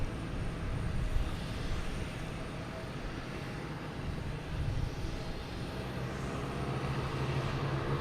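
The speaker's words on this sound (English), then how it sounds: "737-800 heading to Charlotte" An American Airlines Boeing 737-800 takes off from runway 4 right at Boston Logan Airport, a fairly faint, distant, steady engine roar that swells slightly and holds.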